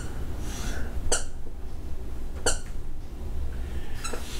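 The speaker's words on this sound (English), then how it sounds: "The dogs decided to bring a squeaky toy in here." A dog's squeaky toy squeaks three times, sharp short squeals spaced a second or so apart, indoors during a live coin auction broadcast, with a steady background hum and no talk over them.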